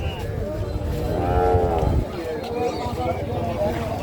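A Friesian calf at a busy cattle market gives one long, loud low moo close by, with crowd chatter and people talking throughout.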